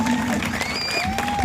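Audience at a Telugu folk dance event claps together, a dense close wash of hand clapping and crowd noise with a few voices and whoops over it.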